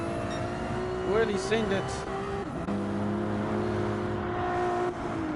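Steady, sustained engine drones from BMW and Ferrari racing cars in a racing video game, with pitch shifts as they accelerate and brake, under a commentator's voice.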